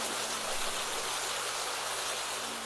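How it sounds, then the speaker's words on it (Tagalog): Heavy rain pours at night near a convent and church, a dense, steady, loud hiss that fills the whole stretch with no gaps and no voices. "Napakalakas ng ulan."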